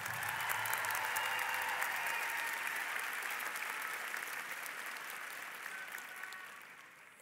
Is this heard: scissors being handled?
no